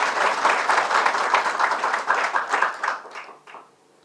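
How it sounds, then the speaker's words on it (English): Audience clapping at a gathering about social responsibility and federations, a dense, loud wash of applause that holds steady for about three seconds before quickly thinning out and fading. "I think you should clap louder"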